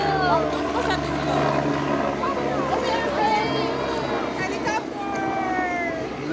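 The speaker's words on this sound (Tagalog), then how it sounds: "Helicopter! Helicopter." A helicopter flies overhead, a steady low throbbing drone under excited voices calling out nearby.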